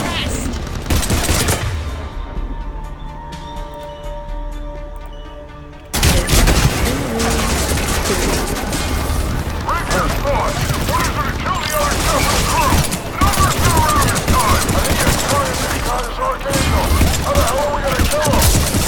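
Weapon fire in the video game Mass Effect 3 during the Citadel DLC: a steady, loud barrage of rapid gunshots and blasts that continues almost without a break, with a voice talking under it.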